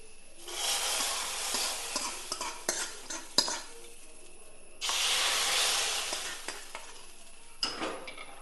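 Garlic sizzling and frying in a pan in a village kitchen, with a steady hiss that swells in two long bursts, broken by sharp clinks and scrapes of a utensil stirring close by.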